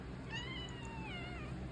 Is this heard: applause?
no